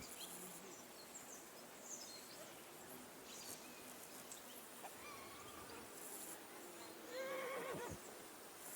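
A horse whinnies near the end in Kingdom Come Deliverance 2, a rising, wavering neigh over a steady outdoor ambience of insects and faint birds, with soft hoof clatter earlier.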